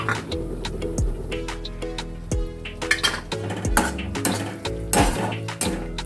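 Spoon clinks and metal clatter as two spoonfuls of whisked sour yogurt go into a pan of dhaba-style vegetarian masala paneer curry, with quick, irregular taps and scrapes over a low, steady hum.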